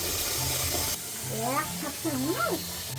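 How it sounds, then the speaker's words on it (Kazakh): Potatoes washed under running tap water: a steady hiss of flowing water runs throughout, louder at first and then continuing faintly beneath a voice speaking over it. "Мына жерде қас картошкаларды жуамын."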